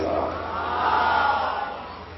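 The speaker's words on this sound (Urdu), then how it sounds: "آپ حضرات استقبال کریں بلند ترین نعرے صلوات کے ساتھ" A large audience at a religious poetry gathering (mahfil) in Naugawan Sadat loudly chants a salawat slogan to welcome poet Dr. Majid Deobandi: a sustained, dense roar of many voices in unison, steady and full throughout.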